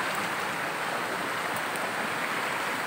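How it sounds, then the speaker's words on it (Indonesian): A small river flows steadily past a forest streambank where wild bee trap boxes sit, a continuous broadband rushing wash, fairly loud and close, with no voices. "di pinggiran sungai kecil."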